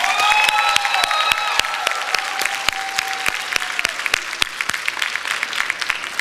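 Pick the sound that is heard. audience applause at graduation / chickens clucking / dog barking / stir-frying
audience applause at graduation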